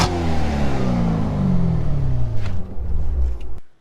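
A 2018 Chevrolet Corvette C7 Z06 gives a loud, close rev that booms and then winds down in a falling rumble before cutting off abruptly.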